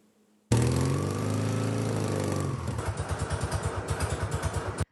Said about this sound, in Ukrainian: Залізний звук їхніх двигунів щось особливе